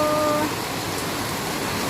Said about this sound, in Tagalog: Malakas ang ulan dito.